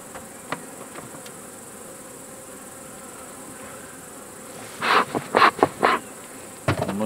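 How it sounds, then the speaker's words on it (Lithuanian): Honeybees buzz around a wooden beehive, with a faint steady drone at first and then louder bursts of close buzzing as bees fly past near the end. "Bitelės yra."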